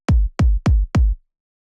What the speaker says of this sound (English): It's kind of like a progressive house kind of kick,